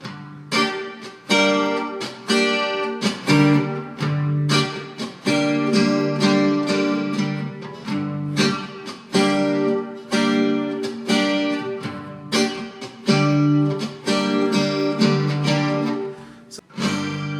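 An acoustic guitar strums the chords of a song in a steady rhythmic pattern, bright and close, with no voices.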